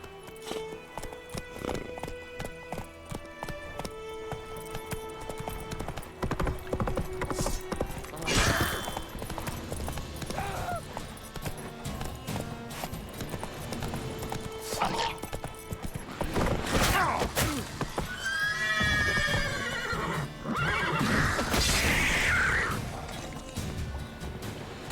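In The Witcher 3 video game, a horse's hooves clip-clop at a trot, joined by bursts of neighing and whinnying, with game music, impacts and a little speech woven through.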